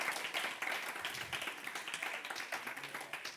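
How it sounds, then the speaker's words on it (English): Audience applause for an intern presenter at a summer final-presentations event, a dense, steady patter of many hands clapping at moderate level for a few seconds. "Round of applause for Angelica."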